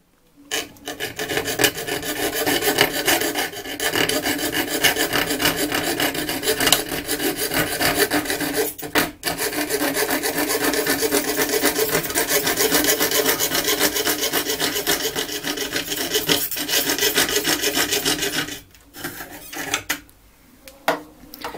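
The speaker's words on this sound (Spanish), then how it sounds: "Es una cegueta muy fina con la cual estoy trabajando que me permite hacer este tipo de trabajos, ir recortando el acrílico a mi gusto." Fine fretsaw blade rasping through acrylic sheet, a loud steady scratchy stroking with brief pauses between runs of cutting, close up.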